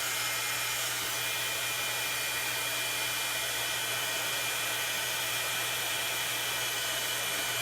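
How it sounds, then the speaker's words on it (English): Heat embossing tool blowing hot air over a stamped card, a steady, continuous broadband whoosh with a low motor hum, close and even throughout with no talking. "So I'm going to just heat this with my heat tool."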